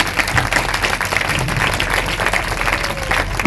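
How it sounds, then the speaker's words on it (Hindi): Loud, dense clapping rises from a congregation at a Hindi-language Sunday church service, a close, continuous burst lasting a few seconds. "अगर आपके समझ में आया तो जोर से तालियां बजाएंगे"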